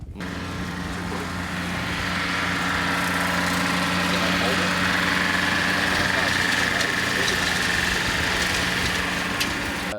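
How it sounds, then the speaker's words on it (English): A tractor mowing at a filming location drones steadily with a constant engine hum from a moderate distance, running unbroken throughout with a faint higher whine in the middle. "there's a gentleman mowing"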